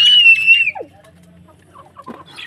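Chickens being hand-fed cluck and squawk nearby, one loud high call at first, then sparse soft clucks and brief rustling.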